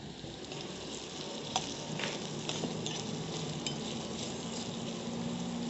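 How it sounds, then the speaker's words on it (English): Green recheado masala fries on a slow flame with a steady close sizzle and crackle, with occasional light stirring clicks. "I have kept it on slow flame. Keep on stirring now and then."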